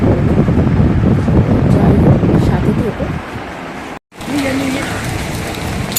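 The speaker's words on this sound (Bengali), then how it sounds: "কিন্তু প্রচণ্ড বৃষ্টি পড়ছে" Heavy rain pours steadily outdoors as two people set out with an umbrella, a loud continuous hiss broken by a brief cut, with a voice speaking over the downpour.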